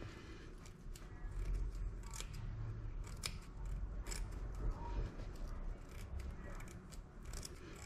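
Scissors snip through wreath material in a steady series of close, crisp cuts, one after another across the piece.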